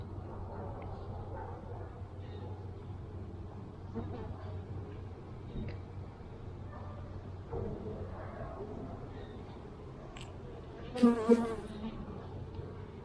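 Honeybees hum steadily around an open hive during an inspection, a low continuous drone with a few brief louder bursts near the end and occasional handling noise.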